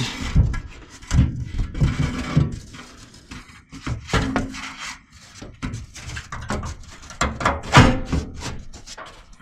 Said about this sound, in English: We slide the villa board